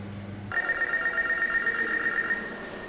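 A telephone rings with a bright, sustained electronic tone that starts abruptly after a short low hum and holds steadily for about two seconds before cutting off, close and fairly loud.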